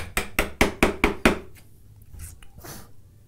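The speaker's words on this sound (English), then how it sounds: "Tap it until the tone changes. We're listening to the sound of the chisel." A chisel tapped into a mahogany board with about six sharp, evenly spaced mallet strikes up close, then a few softer scuffs and taps.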